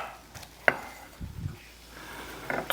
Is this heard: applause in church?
no